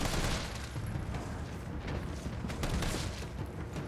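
Gunfire at zombies in the survival horror game Resident Evil 3, a dense run of rapid shots with booming low impacts and rumble over a busy background, no talking.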